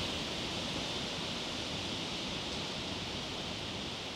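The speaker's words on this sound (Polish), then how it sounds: "Świetny ten szum jest. Taka orkiestra liści." A soft, steady rush of tree leaves rustling in the wind, a broad even hiss with no pauses or voices.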